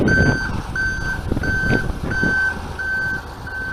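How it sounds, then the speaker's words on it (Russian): A snow grader reversing at night during a snowstorm clean-up in Ryazan, its reverse alarm giving regular loud beeps about every two-thirds of a second over the rumble of the engine. "Грейдер как раз таки сейчас сдает назад"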